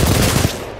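Rapid turret gunfire from the video game Titanfall, a dense, loud burst of overlapping shots that cuts off sharply after about half a second.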